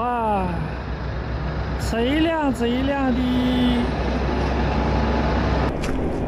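Heavy trucks rumble past on a busy highway, a steady engine roar with a rising and falling whine as one vehicle goes by, while someone talks over the traffic noise.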